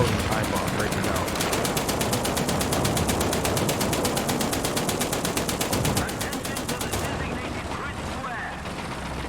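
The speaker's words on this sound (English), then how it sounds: "There's 4 machine guns that are active on this guy." Tank machine guns firing in the War Thunder video game, a loud, rapid and steady stream of automatic bursts that runs for several seconds, then cuts to a rumbling engine-like background.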